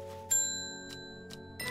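A bell in the video game Strange Horticulture rings to call Vikram: a bright metallic ding over a sustained musical drone, followed by two softer chimes and a final strike.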